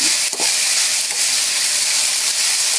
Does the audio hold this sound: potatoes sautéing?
yes